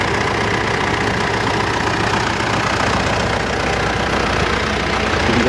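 Mitsubishi Montero Sport engine idling after an oil change, a constant loud rumble with a slight knocking texture, steady throughout, close by, with no voices over it.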